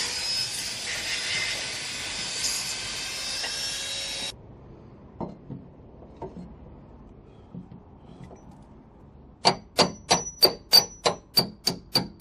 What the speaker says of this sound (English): I just need to tidy up the burrs and the edges with a power file